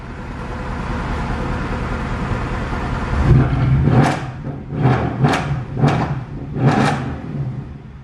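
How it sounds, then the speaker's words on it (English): A salvaged Mercedes C63 engine ticks over quietly at idle, then gives several short sharp revs spaced about a second apart, heard close and alone. "it is mad how absolutely quiet it sounds here. Like barely anything on tick over"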